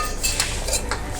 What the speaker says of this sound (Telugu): గిన్నెని స్టవ్ మీద పెట్టుకొని స్టవ్ ఆన్ చేసుకోవాలి.